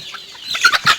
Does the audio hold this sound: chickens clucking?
yes